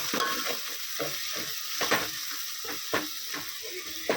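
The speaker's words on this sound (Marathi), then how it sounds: "आता आपण या मसाल्याला सगळं मिक्स करून घेणार आहोत।" Everest pav bhaji masala stirred through vegetables in a pan, a steady sizzle broken by repeated scraping strokes of a spoon roughly every half second, close and fairly quiet.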